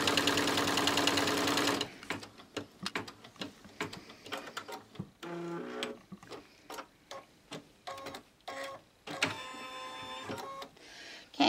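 An embroidery machine stitches a placement line for a bottom border in the hoop on a mug rug, with black thread: a whirring run, then a rapid series of mechanical clicks and taps with short pauses, close and moderately quiet.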